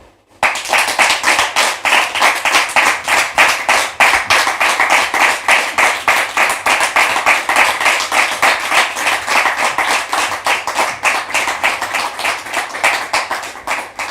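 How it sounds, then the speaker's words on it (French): A television studio audience claps in loud, fast, rhythmic unison to welcome a guest onto a talk show, the beat holding steady and close for the whole stretch with no voices. "Public, merci de la recevoir sous vos applaudissements, s'il vous plaît"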